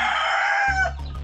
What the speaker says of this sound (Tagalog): So yung mga manok natin mga Pranstar.